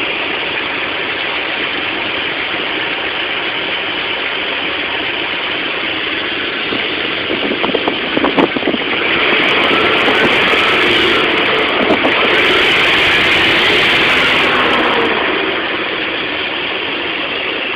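A car engine fitted with a GEET fuel system running on straight petrol idles steadily and close by, with a few sharp clicks and a slightly louder, rougher stretch midway before settling back to an even hum.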